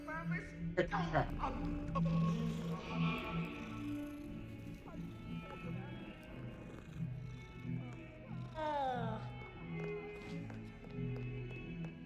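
A cat in the video game Hogwarts Legacy meows with rising and falling calls, twice clearly, over a soft steady purr and game background sound, with a voice talking nearby.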